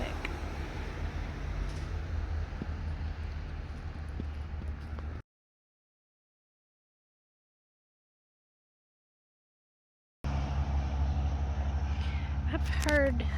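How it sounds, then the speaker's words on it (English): Steady road traffic rumbles by on a street in Lago Vista, Texas, a continuous broadband wash of passing vehicles that cuts out for several seconds, then returns at similar loudness with a few brief higher-pitched sounds. "Lots of traffic."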